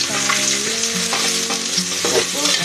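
Onions sauté in hot oil for sinigang, a loud close sizzle with crackling spatters and some stirring, continuous throughout with no talk.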